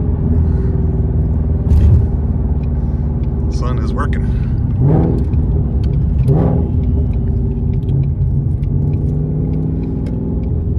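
Low, steady V6 Mustang engine and upgraded exhaust rumble heard from inside the car with windows up as it accelerates under load, with someone talking briefly over the drone.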